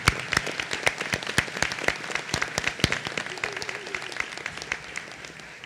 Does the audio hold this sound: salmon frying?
no